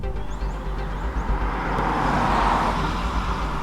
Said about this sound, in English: the tread pattern is relatively quiet, and the tire produces just modest impact noise over the bumps